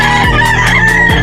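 A rooster at a game farm in Rodriguez, Rizal crows loudly and close, repeated crow phrases in quick succession filling the short moment with no talk.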